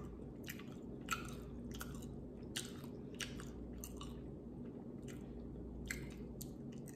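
Close chewing of New Orleans–style seafood, wet squishy bites and soft crunches repeating irregularly, near and fairly quiet, with no speech.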